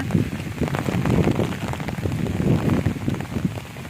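Rain comes down in a village, loud and close, with dense drops pattering on surfaces in an uneven, splashy rhythm throughout.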